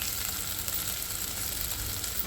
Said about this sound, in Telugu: ఉల్లిపాయలు పచ్చిమిరపకాయలు ఎండుమిర్చి అవన్నీ వేసిన తర్వాత వేగిన తర్వాత